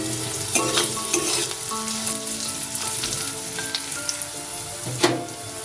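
A medium-sized chopped onion fries in a pan with salt until browned, producing a loud, continuous hiss and crackle with occasional stirring knocks.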